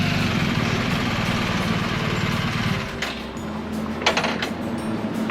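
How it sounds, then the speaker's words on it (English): A motorcycle engine idles with a steady low throb, then cuts out around the three-second mark, leaving a quieter scene with a few brief mechanical clicks and clunks as the kickstand goes down. "The engine cutting out and the kickstand going down."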